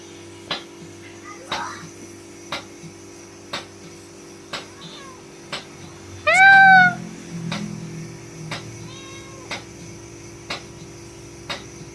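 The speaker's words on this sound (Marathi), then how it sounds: "हे बघा दूध खाण्यासाठी मांजर आहे बघा." A tomcat in a village gives a short, clear meow with rising and falling pitch near the middle, set against regular faint ticking knocks and a steady low hum, with a brief rumble of movement close by.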